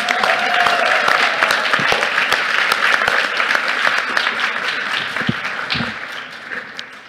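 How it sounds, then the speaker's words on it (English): An audience at a Saint Mary's University ceremony in Canada gives sustained applause for the star makers, loud and dense at first, then thinning slightly toward the end, with scattered individual claps and a murmur of voices underneath. "please give a huge round of applause to all the star makers"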